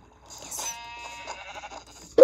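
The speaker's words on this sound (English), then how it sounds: "Oh, another sheep." A sheep in Minecraft on the Nintendo Switch gives one clear, wavering synthetic bleat, close and alone, followed by a brief sharp knock at the end.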